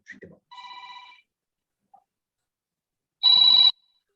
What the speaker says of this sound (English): I forgot to mute my phone.